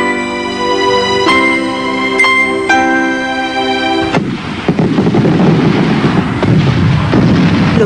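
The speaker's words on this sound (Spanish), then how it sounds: "Los fuegos artificiales son muy peligrosos." Fireworks in a Peruvian TV commercial: after a few seconds of tonal sound, a loud burst of crackling, popping explosions erupts and keeps rumbling and crackling densely to the end.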